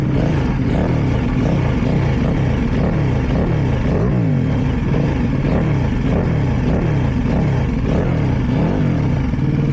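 A 2024 Ducati Panigale V2 SuperQuadro with an Aprokovich exhaust runs loud and close throughout, the engine note rising and falling in repeated rev swells with no voices.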